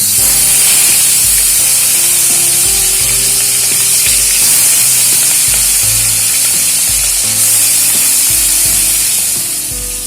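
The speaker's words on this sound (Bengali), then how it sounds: "নুন হলুদ মাখিয়ে রাখা মাছগুলো এবার দিয়ে দেবো তেলের মধ্যে" Loud, continuous sizzling and spitting of salt-and-turmeric-coated bhola fish frying in hot mustard oil, close and steady throughout, with occasional crackles and pops.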